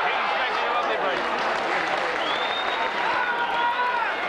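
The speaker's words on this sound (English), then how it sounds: "The Warrington crowd's definitely getting behind Paul Ford now." A Warrington rugby league crowd at a 1984-85 home match against Leigh applauds and cheers steadily, a dense, continuous roar of clapping under a commentator's voice.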